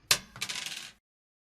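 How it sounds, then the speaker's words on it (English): Dice roll across a hard tabletop during a tabletop role-playing game, giving a sharp first clatter followed by a quick run of rattling taps that stops within a second, close and alone. "I'm going to roll the dice 1 through 4 around the group."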